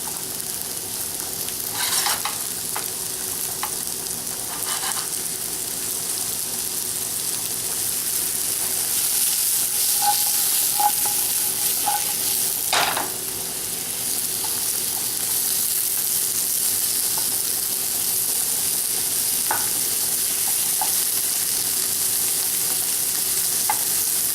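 Mushrooms spread out in a pan sauté with a constant close sizzle and hiss, with occasional light clicks and a scrape of a utensil moving them about.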